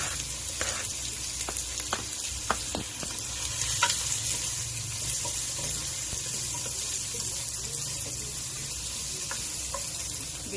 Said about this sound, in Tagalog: Magigisa na tayo, sibuyas at ang bawang.